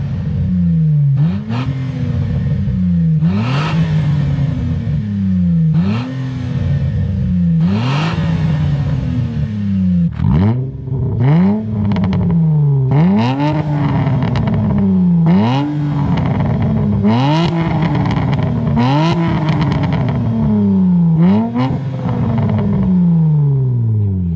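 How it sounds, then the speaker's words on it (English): A Hyundai Tiburon with a resonator delete exhaust mod revs again and again in a regular rhythm, each loud blip rising and falling in pitch, close by and raspy with some clatter between pulls. "I'm going to show you guys some clips from the video where we did some exhaust mods to my girlfriend's Hyundai Tiburon."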